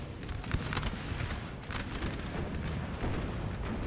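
Dense, rolling musket volleys from Grenadier infantry in a Napoleon Total War battle crackle continuously, with scattered sharper reports over a low rumble, moderately loud and without talk.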